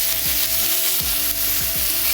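Mushrooms frying in oil in a pan, a loud, continuous close-up sizzle with a few soft stirring scrapes, no voices.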